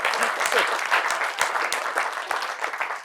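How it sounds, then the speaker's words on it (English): An audience at a Gov. Kasich town hall in Sioux City, Iowa, breaks into steady, dense applause that carries on for the whole stretch, with a voice faintly audible over the clapping. "Give her a round of applause."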